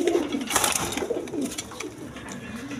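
Pigeons kept for sale coo nearby, soft low throaty calls over a faint background of other birds.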